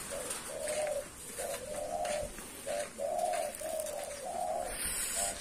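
Male spotted dove cooing nearby in a repeated run of soft, steady coos at an even rhythm, with no voices present.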